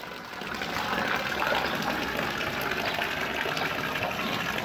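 Clean water gushing steadily into an old water tank, a loud, continuous rushing flow that swells in the first half second and then runs evenly, up close, with no talk.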